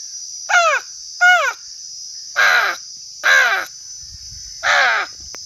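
A human voice imitates a crow's caw, five harsh calls in two groups: two quick caws, a pause, then three fuller, more spaced caws, loud and close against a steady high background hiss.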